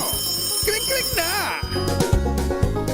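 A telephone rings in short repeated bursts as a sound effect on a Philippine radio news show, loud and close over backing music.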